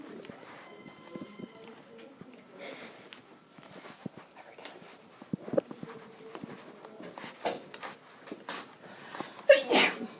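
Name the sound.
sneeze in classroom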